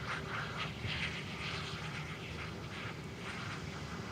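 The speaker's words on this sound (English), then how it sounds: "That's quite the wisping sound effect from the IAE V2500 engines." Airbus A319 with IAE V2500 engines producing a steady, airy whooshing roar, continuous and fairly close at an airport plane-spotting location, with no talk over it.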